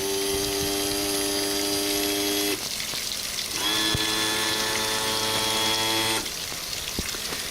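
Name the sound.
boat motor being tilted up and down by trim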